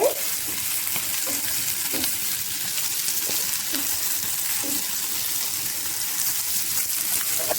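Paneer cubes roast and fry in a pan, a loud constant sizzle with periodic scraping and clinks as the pieces are stirred and turned at regular intervals.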